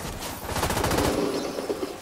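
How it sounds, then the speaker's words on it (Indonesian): A turret fires in the video game The Division 2, a rapid burst of automatic gunfire with a quick rattling rhythm that tapers into a muffled rumbling tail, loud and close. "Aduh, ada turret ini. Ada turret fire nih."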